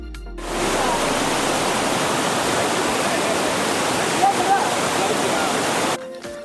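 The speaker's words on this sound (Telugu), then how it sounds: "వాటర్ ఫ్లో సౌండ్ చూసారా" A loud, steady rush of falling water at Kotthapalli waterfalls, running high, roars without pause for several seconds, close by, with no voices over it.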